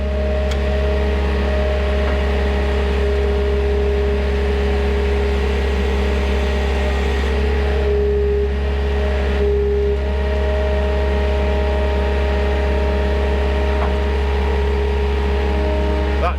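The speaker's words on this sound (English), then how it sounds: "Just doing enough to get the back wheels of the tractor down here" A tractor engine running steadily under load while the machine drives backward, a loud, close, constant low drone with a faint shift midway and no talk.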